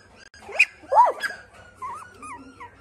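Five-week-old Pocket (toy) Goldendoodle puppies give a few short, close whimpers and high yips, with thin whining squeals trailing off toward the end, against quiet background noise.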